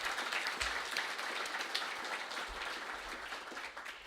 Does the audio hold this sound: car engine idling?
no